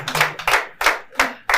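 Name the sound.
audience clapping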